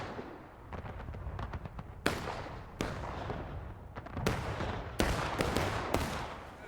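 Musket volleys crack out in the War of Rights Civil War game, with a scatter of distant pops and several sharp, louder shots at irregular intervals over a steady battlefield din.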